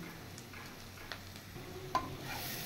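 A spoon stirs pepper and dried chili powder through a pan of bitter gourd, a soft, continuous scraping and faint sizzle with a small clink partway through, fairly quiet and without talk.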